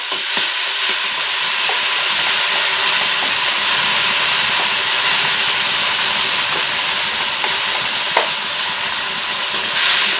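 Spices fry in a pan for a fish curry, a loud, steady hiss and sizzle with occasional scrapes of stirring, close and uninterrupted.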